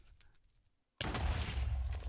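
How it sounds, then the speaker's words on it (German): Explosions in the video game Minecraft: after quiet faint game sounds, a sudden loud blast erupts and rumbles on as a dense, sustained roar through the rest of the moment, with no talk. "Ja, das waren drei Explosionen."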